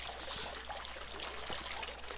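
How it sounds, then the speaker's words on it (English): Water trickles and flows in the video game Potate, a soft, steady babbling stream at low volume with no other sounds. "I'm loving the sound effects of this. Look at this water."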